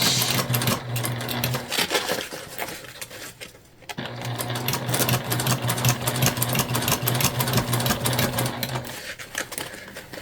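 A sewing machine back-stitches a small bag in a loud, rapid continuous run, breaking off briefly near the start and at the reversal before resuming steadily to the end.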